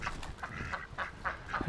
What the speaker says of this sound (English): So I'm just going to chase these ducks away quickly.